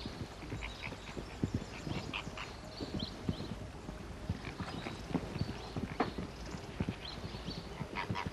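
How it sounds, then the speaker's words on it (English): Zebra hooves clip-clop on hard ground in an uneven rhythm, fairly quiet, with soft rustling and faint animal sounds in the background. "The zebra is odd-toed, with hooves just like a horse."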